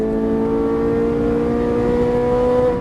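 A Ferrari 458 Italia accelerating on a race track, heard from inside as a loud steady engine whine with a rising tone, continuous and close, no talk over it.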